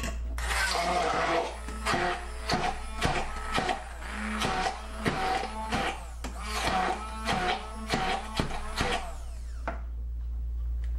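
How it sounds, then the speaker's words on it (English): A stick blender whirs in repeated bursts while mixing avocado, pulsing on and off with a steady low motor hum and sharp clicking chops throughout. "So the way I like to mix it up, is use my stick blender."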